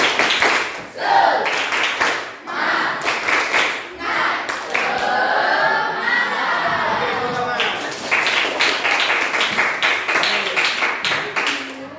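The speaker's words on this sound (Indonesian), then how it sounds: "kita buat tepuk semangat dulu. Tepuk semangat" A school class performs a rhythmic spirit clap before group presentations, with sharp clustered claps in a patterned beat. Voices chant along in the middle section, close and lively.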